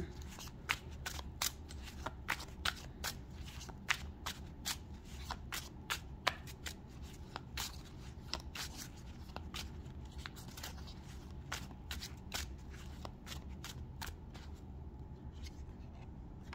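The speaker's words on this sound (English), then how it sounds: "Throwing the cards on the floor." Tarot cards are shuffled by hand, giving a long run of crisp, rapid riffling snaps and flicks, close and fairly quiet, with no talking over them.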